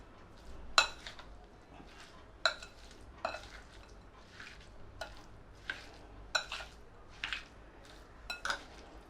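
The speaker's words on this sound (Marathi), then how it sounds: "आता हे छानपैकी सगळं मिक्स करून घ्यायचं आहे आपल्याला" Fresh turmeric pickle ingredients get mixed in a bowl, with quiet scattered scraping and clinks of a spoon against the vessel, close and faint, spaced irregularly.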